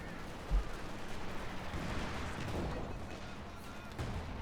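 Machine gun fire, including a Maxim, rattles in the Company of Heroes 2 video game, with a sharp thump early on over a constant, dense battle wash of distant shots and explosions.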